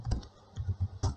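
A few quick, close, muffled keystrokes on a computer keyboard as an admin password is entered for a wireless LAN controller setup.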